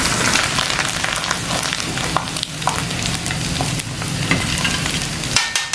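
Small paddy-field eels frying in a pan, a dense, steady crackling sizzle with stirring running throughout at close range, briefly easing near the end.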